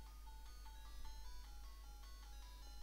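Tinny electronic chiptune melody from a cheap knockoff retro handheld game, a looping beeping tune of repeated notes played faint and distant over a steady low hum.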